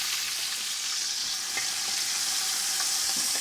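Onion sizzling in a pan for chicken sajji, a steady, close, hissing fry crackle that stays even throughout with no talking.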